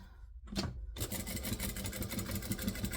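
A sewing machine top-stitches a bag handle down at a 4 stitch length, running steadily with a fast, even mechanical chatter after a brief starting burst, close and alone.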